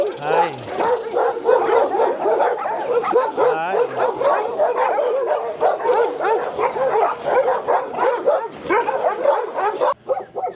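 Dogs bark, yip and whimper throughout at a dog rescue, several animals near and far in a busy kennel, with someone talking over the noise.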